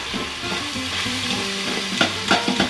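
Onions sauté in an Instant Pot on sauté mode, a dense, close sizzle with scraping stirs and spoon clinks toward the end, no talking over it.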